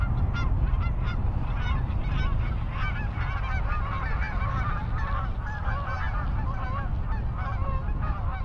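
Canada geese honking in a waterfront park, a dense flock calling continuously and loudly throughout, with overlapping honks over steady low background rumble.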